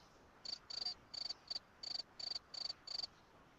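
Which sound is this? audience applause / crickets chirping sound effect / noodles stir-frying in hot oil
crickets chirping sound effect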